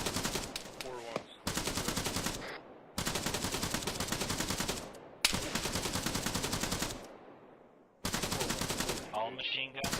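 Sustained bursts of automatic machine-gun fire in an Arma military game, several long rapid strings of shots broken by short pauses, loud and close, with a brief gap before firing resumes.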